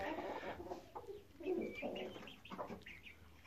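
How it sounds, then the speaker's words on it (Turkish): Soft, low clucks and murmurs from a Gurk breed hen, repeated in short bursts, close by with faint background noise. "Çok güzel bir tavuk."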